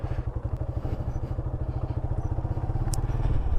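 A motorcycle pulling away slowly with a learner rider, its engine chugging in a close, steady low pulse that builds slightly toward the end.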